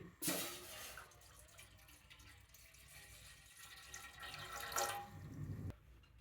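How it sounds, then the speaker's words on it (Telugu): Water pours steadily into a steamer pot in a home kitchen, a continuous splashing stream that starts abruptly and cuts off near the end, close and fairly loud with no talking. "దీంట్లో వాటర్ పోస్తున్నానండి."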